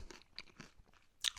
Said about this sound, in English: take a bite